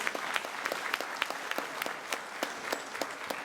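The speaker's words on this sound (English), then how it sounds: "we give him a round of applause, please" An audience at a school's Black & Gold gala applauds, a steady wash of many clapping hands at moderate volume, with individual claps popping out through the sound.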